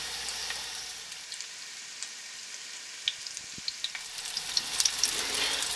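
Meatballs for Italian wedding soup searing in a pan, giving a steady soft sizzle with scattered small crackles and pops that grow a little busier toward the end, close and alone with no talk.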